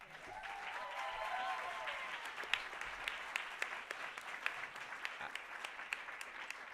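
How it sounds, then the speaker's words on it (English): At an awards ceremony, an audience applauds the producer with fairly faint, distant clapping that starts as a soft wash and breaks into scattered, crisper individual claps, with a faint voice early on. "another applause for her"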